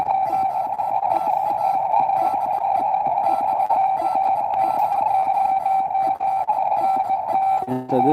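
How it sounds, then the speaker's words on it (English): Morse code sent on a ham radio from a San Francisco park, a steady loud tone around one pitch keyed in fast rhythmic dots and dashes, continuous throughout with a brief voice at the end. "I'm calling Morse code and saying that I'm at the park and to call back"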